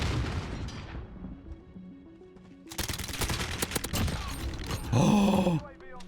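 Uzi submachine gun in Call of Duty Modern Warfare, rapid bursts of automatic fire mixed with booming impacts and game effects, loud and busy, with a player talking over parts of it.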